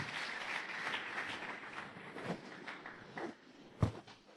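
A church congregation claps in soft, fading applause, a dense patter that thins out after a couple of seconds, with a few scattered claps and a single louder thump near the end.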